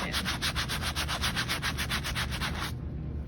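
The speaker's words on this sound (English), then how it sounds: "I'm just going to keep scrubbing this in." Stain remover is scrubbed into a thrifted quilt to lift red mud, a fast, even back-and-forth rubbing rhythm of about five strokes a second, close and loud, stopping just before the end.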